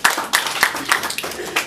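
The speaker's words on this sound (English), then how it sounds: "Please, another round of applause to them." Applause at a business presentation, with distinct individual claps popping out in an uneven rhythm from a small group rather than a dense crowd wash, moderately loud.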